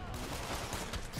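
Dense gunfire in the Spider-Man PS4 video game, a loud continuous burst of rapid shots filling the whole moment.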